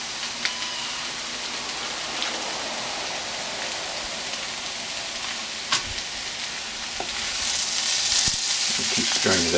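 Ground beef with onions and jalapenos fries in a pan, a loud, dense, steady sizzle like rain with occasional stirring clacks, and the sizzle grows brighter near the end.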